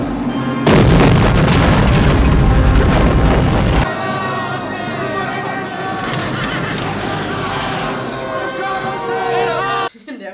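A bomb explodes in the 1987 James Bond film The Living Daylights, heard as a loud, close boom with a rumbling roar that lasts a few seconds, followed by lingering noise and movie sound, with some voices in the background.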